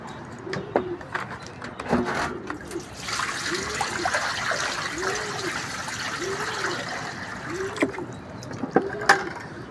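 Clean water sloshes out of a bucket into a container set out for pigeons, a steady close pour and splash lasting several seconds with faint low rhythmic sounds around it and no talking.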